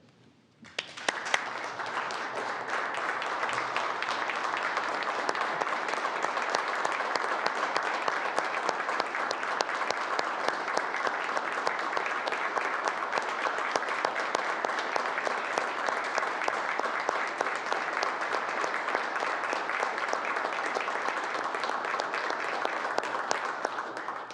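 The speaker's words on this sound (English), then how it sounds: "So please join me in applauding Toby Obed." Sustained applause from members filling a legislative assembly chamber, the Newfoundland and Labrador House of Assembly, loud and steady for over twenty seconds after a brief quiet start, with no talk over it.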